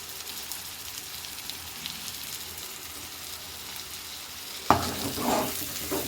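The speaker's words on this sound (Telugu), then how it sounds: "టమాటాలు కూడా టూ మినిట్స్ బాగా ఫ్రై చేసేసుకోవాలి" Tomatoes frying with coconut in a pan for biryani, giving a steady soft sizzle that swells into a louder burst of crackling and stirring near the end.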